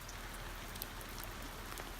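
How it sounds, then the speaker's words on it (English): Rain falling on a Falcon 21 camper, a quiet, even patter of drops tapping the roof with occasional slightly sharper hits, steady and alone with no voices. "So it's raining."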